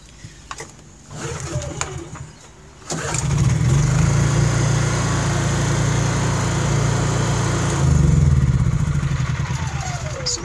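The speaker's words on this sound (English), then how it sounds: "So to prove the generator's running," A Honda EU inverter generator starts and settles into a steady, loud hum, with a brief surge and rise in pitch near the end. Short clicks and rustling come before the start.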